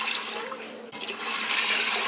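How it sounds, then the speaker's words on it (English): Water pours steadily into an Instant Pot holding a 16-ounce bag of dry red kidney beans, a loud continuous rushing splash that runs the whole time with a brief dip partway through. "I'm also going to add in 6 cups of water."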